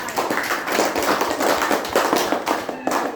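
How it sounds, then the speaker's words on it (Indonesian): A room of students and teachers claps for Elsada after her talk about her drawing and decorating talents, a dense patter of hand claps with a few sharper taps, loud and close, with a voice briefly audible. "Oke, tepuk tangan buat Elsada."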